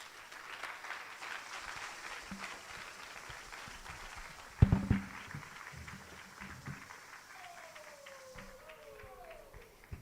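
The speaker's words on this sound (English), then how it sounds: "Another round of applause for Honorable." Applause from an audience at an entrepreneurship festival pitching event in Ghana, a steady spatter of claps running through the whole stretch, with a brief louder thump midway and a voice talking over it.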